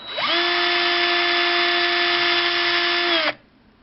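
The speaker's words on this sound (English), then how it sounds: "I'm going to reverse the direction on this drill" A power drill boring into a lock spins up to a loud, steady high-pitched whine for about three seconds, then stops abruptly.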